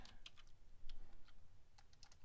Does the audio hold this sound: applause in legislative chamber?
no